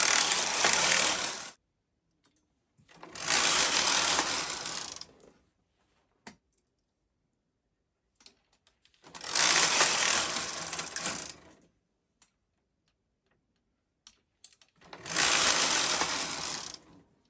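A Brother KH-270 knitting machine carriage makes four separate passes across the needle bed, each a clattering, ratcheting mechanical run of about two seconds, with near silence and a few small clicks between passes.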